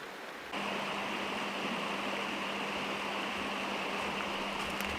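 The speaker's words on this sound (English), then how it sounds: "So we just got to the river, Hoopii Falls." River and waterfall at Hoopii Falls on Kauai, a steady broadband rush of falling and flowing water that starts abruptly and then continues evenly, with no talking.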